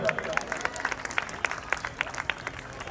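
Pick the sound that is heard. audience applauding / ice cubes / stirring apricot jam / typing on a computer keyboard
audience applauding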